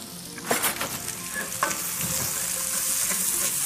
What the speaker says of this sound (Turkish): Soğanları pişiriyoruz.